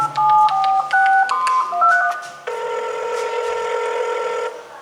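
A telephone is dialed: a quick series of distinct keypad tones of varying pitch, followed by a longer, steady electronic tone that holds to the end.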